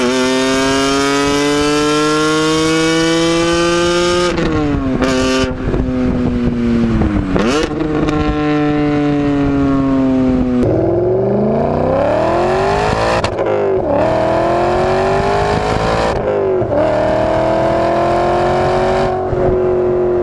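A BMW E46 M3 raspy inline-six and an E39 M5 throaty V8 rev hard in turn, loud and close, with rising and falling engine pitch through several sharp throttle blips and no talk.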